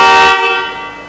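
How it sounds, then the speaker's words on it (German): A Hyundai car's newly fitted horn gives one loud, close blast that cuts off after about a third of a second and leaves a fading ringing tail. "jetzt hat er eine anständige Hupe"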